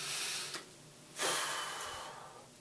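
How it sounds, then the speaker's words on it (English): A person takes a deep breath during a relaxation exercise: a soft, close airy inhale followed by a longer, louder breathy exhale, alone. "And take a deep breath."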